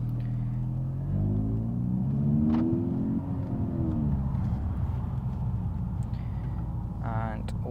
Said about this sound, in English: I'm gonna try to launch the car to see how the car sounds on a launch